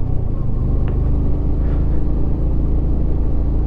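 A Yamaha MT-15 motorcycle engine labours in second gear up a steep mountain road, a loud, continuous low rumble that holds steady throughout with no voices.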